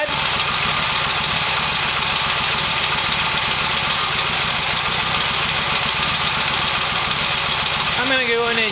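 A 1972 Harley-Davidson XLH Sportster idles with a steady, loud, throbbing beat close by. The engine sounds even throughout, and a brief rising whine comes in near the end.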